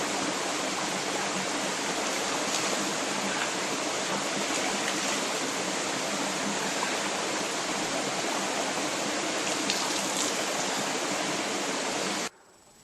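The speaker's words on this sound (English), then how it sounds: "we're at the crossing of where the Little East Fork Trail crosses the creek" A creek rushes steadily where the Little East Fork Trail crosses it on a day hike toward Shining Rock, a dense, constant wash of flowing water that stays loud and even, then cuts off abruptly at the very end.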